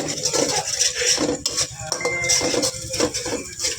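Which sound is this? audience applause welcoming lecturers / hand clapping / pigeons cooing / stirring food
stirring food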